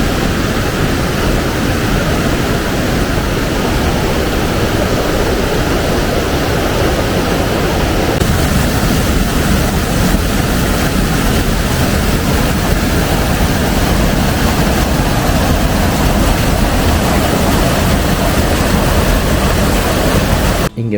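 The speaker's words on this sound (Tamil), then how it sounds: "எவ்வளோ ஒரு நல்ல அருவி இருக்குது பாருங்கள். நல்ல தண்ணி வந்துன்னு இருக்குது. ஸோ நல்ல சத்தமும் கேட்டுன்னு இருக்குது." Abbi Falls near Sakleshpur roars in a loud, steady broadband wash of falling water that stays constant and close, with no voices.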